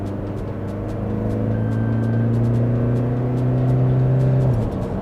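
A Toyota Fortuner automatic 4x4 revs hard as it accelerates from about 40, its engine a loud, steady drone that builds and holds for several seconds before easing off at the end, with no talking.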